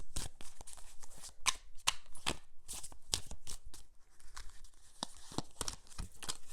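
Tarot cards riffled and flicked in quick, crisp bursts, with papery slaps and snaps as cards are shuffled and drawn, close and fairly loud with no talking.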